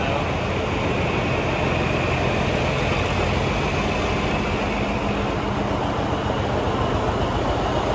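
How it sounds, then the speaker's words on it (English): Heavy diesel tractor engine running steadily and loudly at close range, a dense rumbling clatter, the engine's hammer louder than its exhaust, with no pause throughout. "the actual hammer of the engine is louder than the sound of the exhaust"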